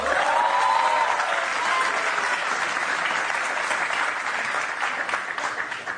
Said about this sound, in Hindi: क्या तालियां बजी है ना